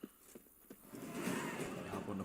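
A horse in The Witcher 3: Wild Hunt whinnies faintly beneath a steady low rumble of game ambience, preceded by a few soft thumps.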